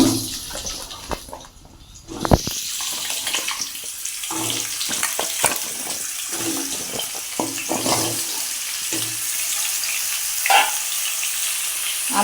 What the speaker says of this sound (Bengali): আলুগুলো একটু কড়াইতে এখন ভেজে নেবো তেলের মধ্যে